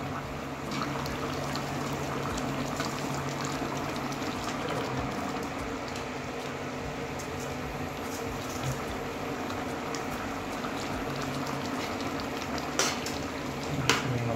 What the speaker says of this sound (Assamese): এতিয়া আমি ইয়াতে মাছ ভাজি লোৱা মাছখিনি দি দিম আৰু জলকীয়া আমি কাটি দিম।